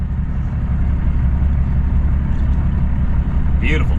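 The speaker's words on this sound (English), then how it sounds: "Beautiful W9 pulling that." A Kenworth W900 truck hauls a heavy load on a highway, its engine a steady, loud, low rumble that runs without a break, with cab noise on top and a faint voice at the end.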